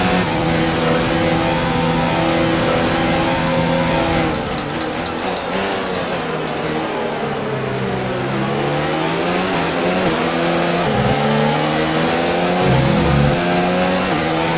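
An F1 car's engine in the F1 2019 racing game, a loud, constant high whine rising and falling through gear shifts, with rapid clicking shifts and a slight dip as the car brakes into a corner.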